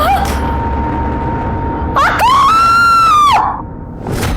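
A woman lets out a long, piercing scream that rises and holds before breaking off, loud and close, over a low room rumble.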